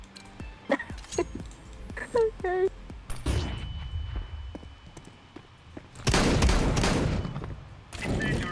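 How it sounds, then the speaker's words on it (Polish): Shotgun shots in Counter-Strike 2, a few heavy single blasts spaced apart among game sounds, the loudest late in the stretch, with a voice talking over parts of it. "Ale ustrzeliłem z shotguna przez całą mapę"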